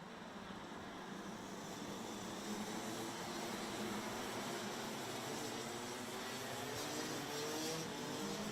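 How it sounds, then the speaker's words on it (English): Rotax racing kart engines rev together before the start of a race, forming a dense, continuous wash of buzzing engine noise from many karts at a steady level with no break. "You can hear the drivers revving their engines, getting themselves fired up and ready."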